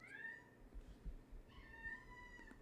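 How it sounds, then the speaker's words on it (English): Two drawn-out meows from a cat, one early and one later, over a low background rumble. "you hear her meowing?"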